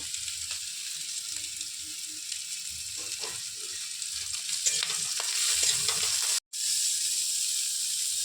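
Mashed prawns frying with browned onions in a pan make a constant sizzling hiss, broken by light stirring scrapes that grow a little louder toward the end, with a momentary dropout near the close.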